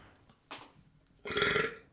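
A loud, close burp rumbles out for about three-quarters of a second after a quieter short sound, with no talk during it.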